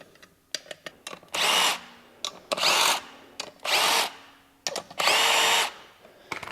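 A powered socket tool zips clutch cover bolts loose during a Thunder Products clutch kit install: four short buzzing bursts, close and loud, separated by metallic clicks and brief pauses.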